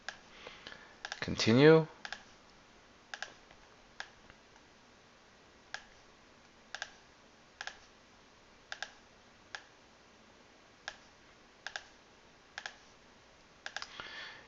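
Sharp, evenly spaced mouse clicks and keystrokes while copying and pasting animation frames, quiet and close, after a short spoken word at the start.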